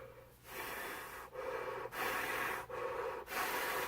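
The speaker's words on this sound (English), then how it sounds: "I am breathing full blast, and it's just not reaching the glasses" Hard breathing through a PM2.5 activated carbon face mask, with three or four long, loud exhalations rushing through the filter, each separated by a brief sharp pause as breath is drawn in.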